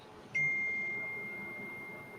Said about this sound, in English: Is that somebody else's phone or mine?